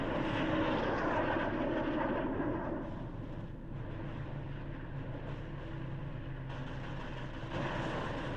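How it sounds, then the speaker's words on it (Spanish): WWII fighter plane diving to attack a B-17 bomber, a continuous roaring piston-engine drone with rumble, steady and fairly distant without a clear rise or fall. "Se lanza en picada. Los potentes cañones de Schubert impactan otra fortaleza aérea."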